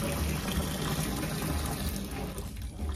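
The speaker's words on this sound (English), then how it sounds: "So, washing machine." Water gushing steadily into a manual washing machine, a loud continuous filling rush that holds for several seconds and eases slightly toward the end.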